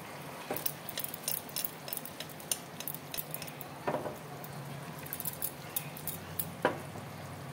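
A utensil stirring vegetarian paneer curry in a pan, producing a series of light metallic clinks and scrapes at an irregular rhythm over a steady background hiss, with no talking.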